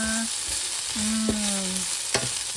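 Ginger sautés in a pan with a continuous close hiss, while a few tonal scrapes and one sharp clink from the utensil rise above it; no one speaks.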